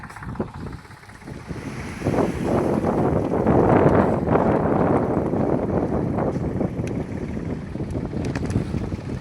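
Strong desert wind sweeps across the salt pans where salt is being worked. It blows steadily and loudly for the whole stretch, with a continuous roar that buffets the microphone in heavy gusts and no voices.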